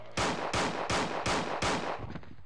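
Five loud, evenly spaced gunshots ring out in Resident Evil 2, each a harsh blast with a short tail, followed by a fainter, quieter trailing sound.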